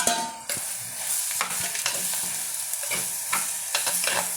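Chopped tomatoes fry and are stirred in a pan for egg masala curry: a loud, continuous sizzle with repeated scraping strokes of the spoon, heard alone.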